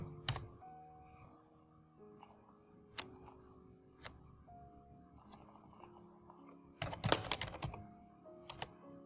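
An ID card number being typed on a computer keyboard: quiet, sparse keystrokes tap in irregular clusters, with a denser burst of rapid key presses near the end.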